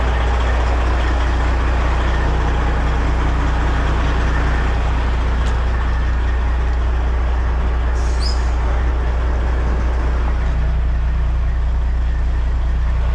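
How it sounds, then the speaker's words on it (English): A right-hand drive Jeep engine idles with a steady, loud low rumble that stays constant throughout, alone without talk, with a brief faint hiss partway through. "This is my right-hand drive Jeep."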